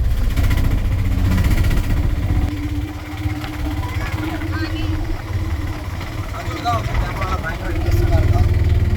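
A small auto rickshaw engine rumbles steadily up close throughout, with background traffic noise and a faint voice under the drone.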